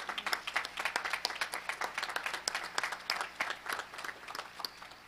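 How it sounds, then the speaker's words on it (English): Audience applause at a commencement ceremony honoring an honorary degree recipient, a dense steady round of many hands clapping, moderately distant, continuing throughout. "Please once more acknowledge our honorary degree recipient with another round of applause."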